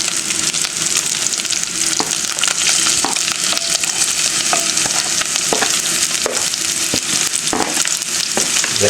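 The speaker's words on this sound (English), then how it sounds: "and I add the onions." Chopped onions and garlic fry in a pan with a steady, loud sizzle that runs throughout, broken by occasional clicks and scrapes of stirring.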